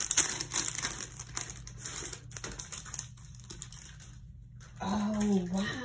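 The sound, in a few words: crinkling of a mail package being opened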